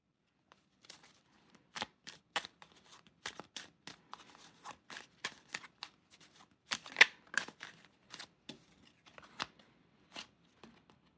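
Tarot cards are shuffled by hand, giving soft, irregular riffling clicks and slaps in quick clusters, quiet and close, with no talking.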